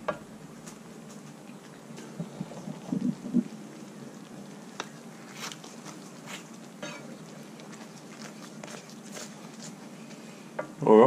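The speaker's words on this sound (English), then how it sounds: "we're scraping all those caramelized bits off the bottom, getting all that flavor into our gravy" A utensil scrapes caramelized bits off the bottom of a pan for gravy, with a soft sizzle and intermittent scratchy strokes, faint and close, ending in a louder clatter.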